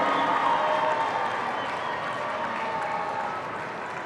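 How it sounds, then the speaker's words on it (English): Graduation audience at a VCU School of Business ceremony applauding: a continuous, even roar of many clapping hands, held steady and gradually easing off toward the close. "give them a big round of applause"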